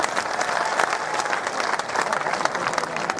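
A large crowd at a political rally in Burhanpur claps continuously in a loud, dense wash of applause, with crowd noise and a voice faintly mixed in underneath.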